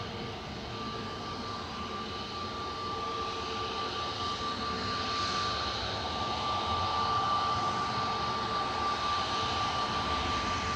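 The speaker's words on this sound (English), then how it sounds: "Got an EasyJet in front of us that looks like it's going now." An easyJet Airbus A320neo bound for Antalya spools up for takeoff at Manchester Airport, a steady jet rumble with a thin whine that gradually grows louder from a distance, heard alone.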